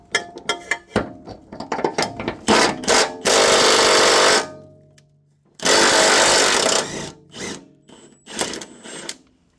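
A power tool buzzes in two long, loud bursts on the rear subframe bolts of an Infiniti G37 sedan, with shorter rattling bursts and pauses between them, close by and with no talk.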